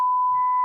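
A single steady censor bleep tone, pure and continuous, loud and close, filling the whole brief moment during a live NBA trade deadline show.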